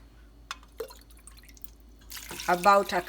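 A few small drips, then a cup of liquid is poured into a pot of cooked maize and beans, a short splashing pour that grows louder at the end.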